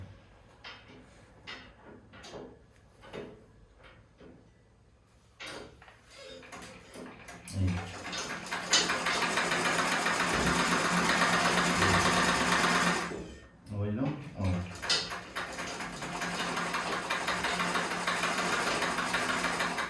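A sewing machine stitches in long, steady runs, a loud close mechanical whir that stops briefly and starts again, with handling clicks and a person talking in the quieter stretch before it.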